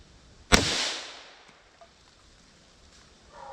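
A single sharp .22 Magnum rifle shot fires outdoors, a loud crack with a long fading echo trailing off over a few seconds, followed by quiet ambience.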